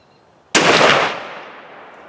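A single loud rifle shot from an 8x57 JR drilling, a sharp close crack that rolls off into a decaying echo after a quiet start.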